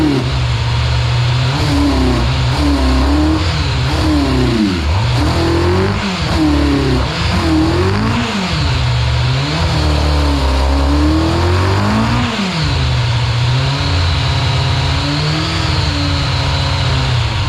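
Kawasaki ZX11 Ninja motorcycle engine, with blocked pilot jets so it won't idle without choke, runs loud and close, its revs repeatedly rising and falling in uneven swells throughout.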